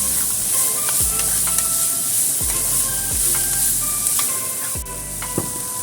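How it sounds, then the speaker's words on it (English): Yellow beans and carrots stir-fry in a pan with a steady, bright sizzle, broken by regular scraping strokes of a utensil roughly once a second. "Stir fry everything in the pan"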